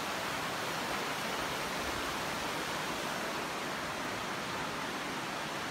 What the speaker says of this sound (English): This is the river I would assume that I have to cross.